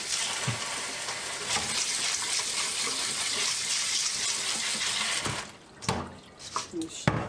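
Tap water runs steadily into a black pot of beans being rinsed, a close gushing wash that breaks off into a few splashes and drips near the end.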